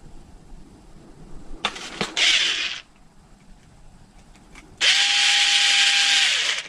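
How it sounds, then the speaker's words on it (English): Electric screwdriver driving screws into an Arrma RC car rear differential, two close whirring bursts, a short one and then a longer steady run, separated by quiet handling. "Now when I'm using the electric driver, I don't tighten things up with it."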